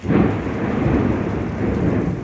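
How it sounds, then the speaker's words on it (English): Thunder rolls low and heavy through a storm, a continuous deep rumble with steady rain hissing alongside it, close and loud throughout with no voices. "It's a little bit of thunder and lightning."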